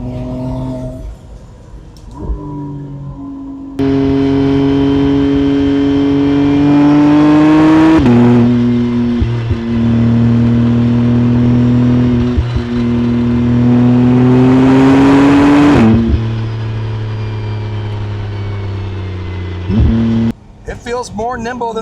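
McLaren Artura Spider driven with the top down on a track, its engine droning steadily and rising in pitch through accelerations and gear changes, loud and close, with someone talking before and after.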